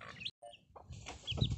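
A restless hen clucking indoors, short bursts of close clucks and chirps broken by a brief silent gap, louder toward the end, no speech.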